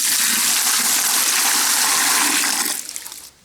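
Water gushes in a loud, steady rush for clay plaster mixing, likely poured from a container into a bucket of earth render, then tapers off abruptly into brief trickles near the end.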